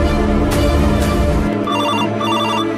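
A phone ringtone plays a repeating electronic melody over a dense, noisy background, fairly loud and continuous.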